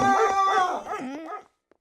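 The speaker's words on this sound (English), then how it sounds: "Guard dog. That guard dog." A guard dog gives a drawn-out wavering howl with a few barking yips, loud and close, fading out after about a second and a half.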